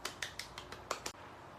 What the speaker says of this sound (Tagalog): At bigyan naman natin ng palakpak si Daniela kasi tama ang kanyang sagot.